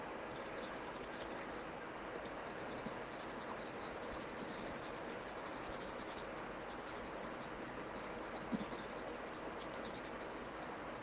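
Watercolor pencil scratching across paper while texture and detail are added to a painting, a faint steady scraping with small strokes that continues for the whole stretch, no talking.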